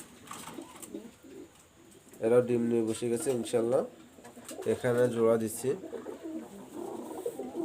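Breeding pigeon pairs in a loft coo in a steady low murmur behind someone speaking close by, the cooing running continuously under and between his phrases.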